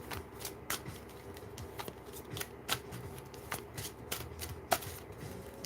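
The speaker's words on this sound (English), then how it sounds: "Okay, let's keep shuffling." Tarot cards being shuffled by hand in a quiet room, a run of soft riffling snaps and papery flutters at an uneven rhythm, close and fairly faint, with no talking.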